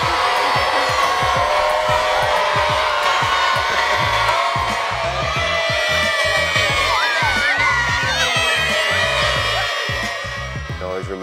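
A large cricket crowd at a Yorkshire versus Lancashire match boos a fielder, a loud sustained jeering roar with whistles and shouts rising over it.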